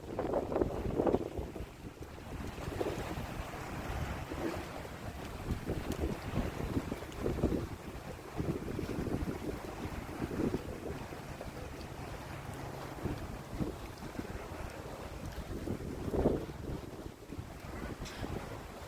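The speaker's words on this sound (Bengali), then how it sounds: "অনেক স্পিড বোট এখানে। এগুলো সব স্পিড বোট।" Speedboats on the water near Long Island, New York, heard as a distant engine drone under heavy wind buffeting the microphone and lapping waves, continuous and fairly loud throughout.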